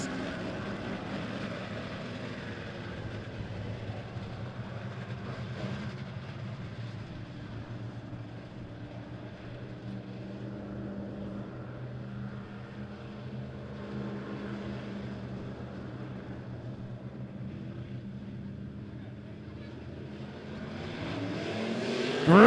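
Race cars roar together off the green flag for a heat race at Monett Motor Speedway, a steady dense engine drone filling the clip with little rise or fall, building slightly louder at the end.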